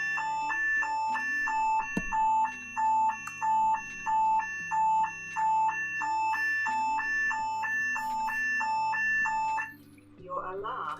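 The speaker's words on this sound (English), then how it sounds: "press your neck pendant for me, give me a good push and get your alarm activated" A personal alarm triggered from a neck pendant sounds a loud two-tone electronic beep repeating in a steady rhythm for about ten seconds before stopping, with a low background hum underneath.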